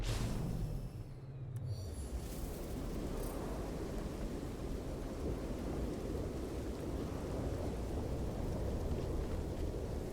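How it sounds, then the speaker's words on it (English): A thunderstorm with rain in the video game No Man's Sky: a loud rumbling thunder roll at the start, then dense, steady rain hissing on for the rest, close and continuous with no talk. "Had to show up just when a storm was actually happening, so everything's nice and cloudy."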